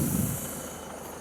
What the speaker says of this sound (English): Got some tractor work going on.